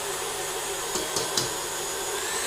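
An electric mixer whirs steadily while blending a chocolate treat, a continuous loud motor drone with a few faint clicks partway through.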